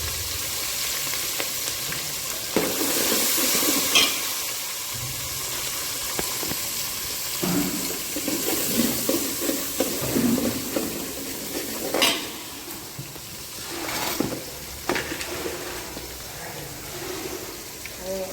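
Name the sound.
cumin, masala and curry leaves sizzling, stirred in pan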